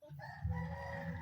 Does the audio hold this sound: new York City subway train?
no